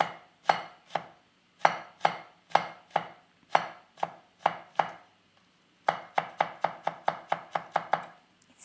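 A knife chops basil and chilies on a cutting board for a Thai chicken and basil dish, with crisp, close, even knocks in quick bursts, speeding into a faster run near the end.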